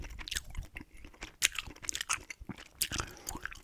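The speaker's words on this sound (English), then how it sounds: "Gum chewing Nintendo 64 collection." Close, quiet gum chewing for ASMR, with wet, sticky smacks and soft crunchy clicks in an irregular rhythm, no talking.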